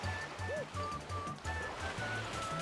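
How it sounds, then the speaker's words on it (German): Water waves in the Super Mario Galaxy video game, heard as a steady rushing surf backed by game music and tones. A voice talks faintly in the background. "Ups, und die Wellen gehen auch ein bisschen mehr"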